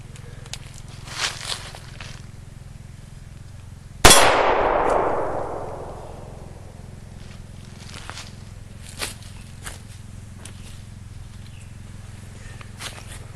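A single 9mm full metal jacket round strikes an AR500 steel plate with one sharp, loud metallic clang that rings and decays over a couple of seconds, with faint outdoor ambience around it.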